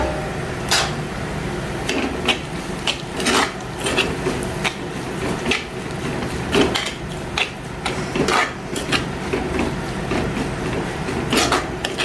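A spoon stirs crab curry in a cooking pot, making repeated scraping and clinking strokes at an uneven rhythm, close and fairly loud, with no talking over it.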